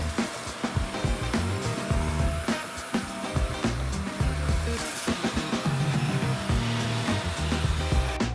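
A vacuum cleaner runs continuously over the floors of an empty apartment, a loud, steady whirring roar with scraping and bumping as it is pushed back and forth.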